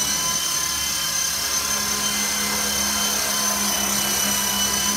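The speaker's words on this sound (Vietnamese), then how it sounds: "Máy bay quay rất là mạnh." A WLtoys V912B brushless RC helicopter spins its rotor hard, giving a loud, steady, high-pitched electric whine with an even buzz that holds without a break.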